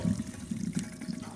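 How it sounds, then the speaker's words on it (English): Hot cooked gluten-free noodles and their cooking water poured into a colander in a home kitchen, a steady close splashing gush of draining water. "Pour that hot noodles that we just cooked into the colander."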